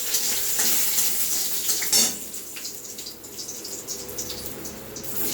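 Whole garam masala and bay leaves sizzling in hot oil in a pan, a steady close crackling fry with a sharp clatter partway through.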